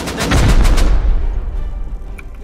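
Rapid bursts of gunfire with booming impacts in the survival video game Rust during a large raid, loud volleys in the first second that die into a rumbling tail.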